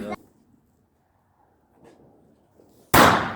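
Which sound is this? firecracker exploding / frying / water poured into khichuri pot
firecracker exploding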